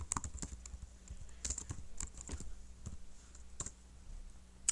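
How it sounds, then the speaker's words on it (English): Typing on a computer keyboard, with brief bursts of light clicking keystrokes close by, irregular in rhythm and fairly quiet, heard alone without talk. "you can just type more"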